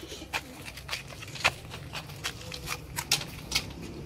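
Sialkoti high flyer pigeons coo softly in a loft, with scattered sharp flutters and clicks recurring over a low background hum, all fairly faint and without speech.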